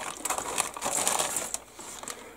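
A plastic bag holding model kit sprues crinkles and rustles up close, a run of dense scratchy crackles with no talking.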